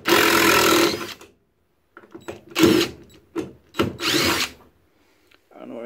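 A cordless Dewalt 20V Max DCF885C1 1/4-inch impact driver drives a 3-inch screw in loud, close bursts of whirring and hammering, broken by short pauses between each burst.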